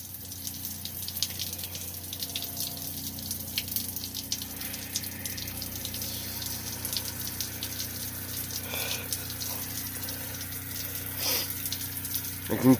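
Water and RV antifreeze run steadily from a tap as an RV water system is winterized, a constant gushing flow with a faint pump-like hum underneath and no one speaking.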